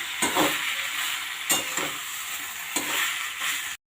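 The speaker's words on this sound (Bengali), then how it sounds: "এরপর আমি সেদ্ধ করা শাকগুলো দিয়ে দিলাম" Boiled greens (shak) tossed into a pan with cumin sizzle and fry steadily, with a few louder stirring scrapes at regular intervals before the sound cuts off abruptly near the end.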